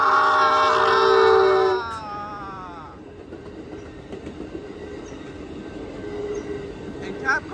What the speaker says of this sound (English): here comes 741 with the freaking 2104